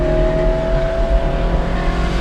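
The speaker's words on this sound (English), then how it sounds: "Oh my God, the way it downshifts. You can hear as it ricochets off the building walls." Ferrari 458 V8 engine revving hard on downshifts in a built-up street, its note echoing off surrounding building walls; a loud, steady sustained engine roar throughout, with no talking.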